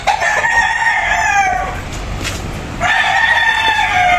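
Gamefowl bull stags from the EEJ Game Farm Bandit line crow loudly and close by, two long crows separated by a short pause.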